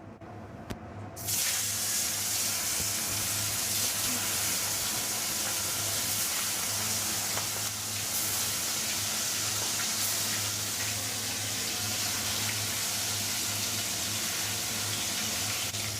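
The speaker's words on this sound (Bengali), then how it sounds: "তেল গরম হয়ে গেছে, এবার মাছ দিয়ে দেব।" Lailontika fish frying in hot oil, a loud, steady broadband sizzle that starts abruptly after a quiet second and hisses continuously, close and without talk.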